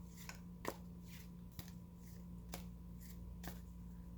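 Soft, regular tarot card-shuffling riffles repeat about once per second, quiet and close, over a faint background hum.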